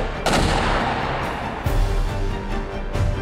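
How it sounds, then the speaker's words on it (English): Patria AMOS 120 mm automatic twin-barrel mortar fires in quick succession, loud booming blasts at about half a second, near 1.7 seconds and again near 3 seconds, each rolling into a rumbling echo. "If you have a weapon system that can barrage the target with 5, 10, 15 mortar projectiles within seconds"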